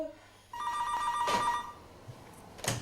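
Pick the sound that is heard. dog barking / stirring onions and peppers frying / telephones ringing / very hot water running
telephones ringing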